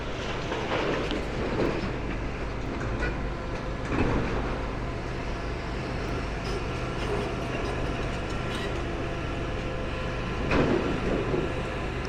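A heavy orange demolition machine works on a hospital demolition site, a steady loud rumbling drone with occasional clanks and surges, continuous throughout with no voices.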